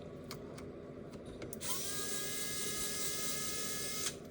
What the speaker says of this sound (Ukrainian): Відкручуємо другий винт.